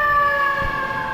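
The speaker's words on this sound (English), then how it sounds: "there were a bunch of sirens outside" Emergency vehicle sirens wail outdoors, a loud steady tone held throughout with a low rumble beneath it and no talking.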